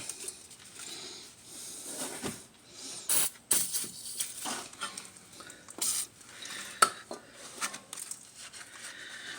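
PB Blaster penetrating oil sprayed onto the front brake parts of a 2010 Kia Soul, in a few short hissing bursts spread across a quiet workshop background.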